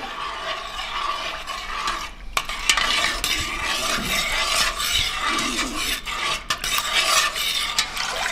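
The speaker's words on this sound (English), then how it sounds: "start stirring" A dandelion jelly mixture with pectin is stirred in a pot over rising heat: a steady, close scraping and swishing of the utensil against the pot, continuous and alone.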